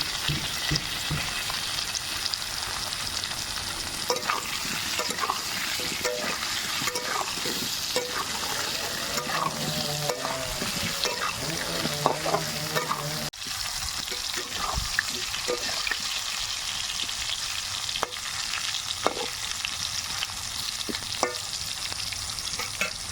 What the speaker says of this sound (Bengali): প্রথমেই আলুগুলো ভেজে নেব একটু লবণ আর হলুদ দিয়ে।